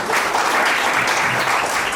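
Loud, dense applause from an audience greeting Aadarsh Mishra of Kaushambi, third-place winner of a speech competition at a Valmiki Jayanti event, steady sustained clapping filling the room with no break.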